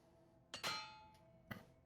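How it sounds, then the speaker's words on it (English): A repair hammer breaks in the video game Oblivion, giving a couple of short metallic clangs with ringing overtones, then a second fainter clink a moment later, fairly quiet and alone. "And we broke another hammer."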